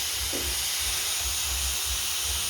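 Mushrooms frying until crisp in hot oil, a constant bright hiss and sizzle that fills the whole stretch without pause, close and steady.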